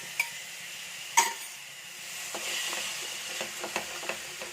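Two ripe tomatoes stirred in a frying pan for a Kerala chickpea curry, giving a soft steady sizzle with scattered scraping clicks of the spoon against the pan and a couple of sharper knocks.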